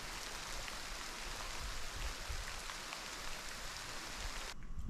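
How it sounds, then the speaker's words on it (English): Steady rain pours through a forest during an elk archery hunt in the Colorado mountains, a dense, even hiss of drops on leaves and ground with no voices, shifting briefly at the very end. "And that rain shut everything down."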